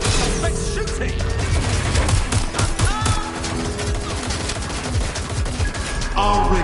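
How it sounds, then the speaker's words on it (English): Rapid gunfire in the video game Watch Dogs: Legion, loud bursts of automatic shots and impacts crackling throughout alongside a tonal game score, with a brief clatter near the end. "Let's shoot it!"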